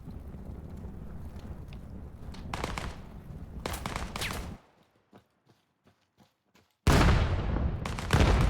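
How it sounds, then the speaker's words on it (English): Pistol shots crack back and forth in a VR esports shooter match played with pistols only, bursts of sharp reports in quick clusters, a short near-silent gap, then another loud dense burst. "Shots exchange towards middle."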